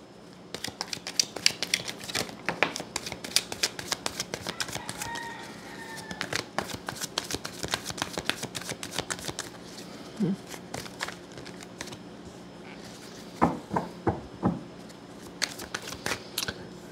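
A deck of tarot cards being shuffled by hand, with quick crisp riffles and flicks in bursts, close and clear, pausing briefly between rounds.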